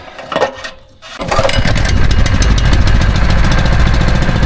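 A small fire pump engine on fresh fuel, kept for paddock fires at harvest, sputters through a couple of cranking attempts, catches after a brief gap and then runs loud and steady, close by.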